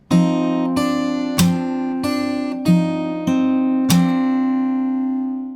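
An acoustic guitar plays the closing chord of a song fingerstyle, about seven plucked and slapped attacks at a steady, unhurried pace, each note left ringing over the last, close-miked and without talk.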